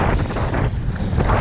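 Strong wind buffeting the microphone while paddling an Old Town kayak on the water, a loud steady roar with gusty fluctuations throughout, no talking.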